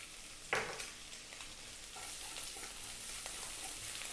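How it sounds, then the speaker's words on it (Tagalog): Garlic sautéing in oil for a Filipino beef and bean sprout stir-fry, opening with a sharp hiss as it hits the pan, then a soft steady sizzle with light stirring scrapes, close and quiet. "So, igigisa ko na yung ating garlic."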